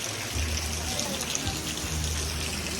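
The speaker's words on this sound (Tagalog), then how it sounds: "Naulan nga lang ngayon." Heavy rain falls steadily as a dense, even hiss with light patter on surfaces, and faint voices murmur underneath.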